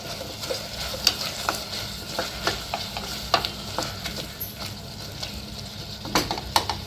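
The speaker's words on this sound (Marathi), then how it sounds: "एकदा त्याला हलवून घेऊयात चांगलं" A spoon stirs a red pumpkin curry with red chili powder in a frying pan, scraping in a steady rhythm of soft strokes over a constant sizzle, close and without talk.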